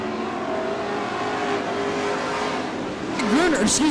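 Race cars speed around a dirt oval track, their engines droning and revving steadily, then swelling louder near the end as a car passes close.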